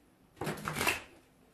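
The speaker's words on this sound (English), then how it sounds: "let me shuffle these" A deck of tarot cards is shuffled once in a short, close riffle lasting about half a second, with quiet surroundings before and after.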